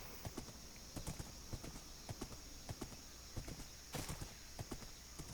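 Steady clip-clop of horse hooves walking at an even pace in Minecraft, with a low ambient hum running underneath.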